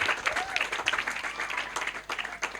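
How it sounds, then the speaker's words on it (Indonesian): Audience applause at a panel discussion on urban climate action fills the space, a dense steady patter of many hands clapping with a faint voice underneath. "Tepuk tangan dulu buat teman-teman."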